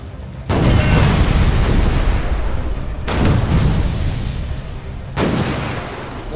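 Ship cannons in the VR naval battle game Furious Seas fire in three loud, heavy booms, each followed by a long rumbling decay, spaced a few seconds apart.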